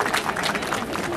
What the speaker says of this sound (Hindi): तो कृपया इन बच्चों के लिए एक बार फिर जोरदार तालियां